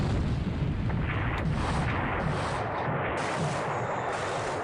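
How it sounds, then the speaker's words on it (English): Naval gunfire hits in a WWII Pacific strategy video game, a dense continuous barrage of loud booming blasts and rumbling explosions with no talk over it. "Up, another gunshot hit."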